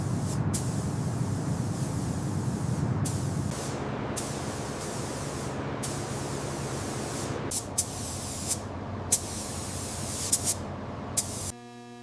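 Dark gunmetal paint spraying onto vehicle armor during a restoration, a steady airy hiss in long bursts broken by short pauses, with a few sharp clicks near the end.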